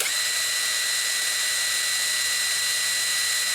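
A compact BOE impact wrench runs free at its top speed, a loud, steady high-pitched motor whine with an even, unbroken tone and no talking over it.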